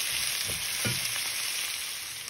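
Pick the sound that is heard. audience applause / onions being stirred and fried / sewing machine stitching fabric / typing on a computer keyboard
onions being stirred and fried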